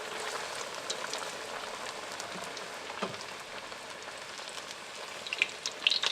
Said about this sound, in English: So I'm going to put this in the frying pan now